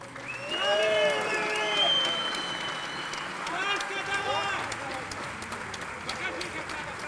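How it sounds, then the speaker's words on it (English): An esports crowd at a Dota tournament final applauds and cheers for several seconds, with a loud voice ringing out over the clapping before the noise gradually settles. "let's give a big round of applause to our first prize"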